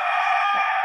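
A rooster crowing on a Sonali chicken farm, a single loud, close, sustained call filling the moment.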